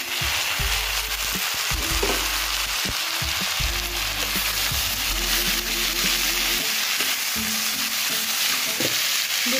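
Chopped tomatoes frying with browned onions in a pan for Punjabi-style mutton curry, giving a steady, loud sizzle throughout with occasional stirring, under faint background tones and no talking.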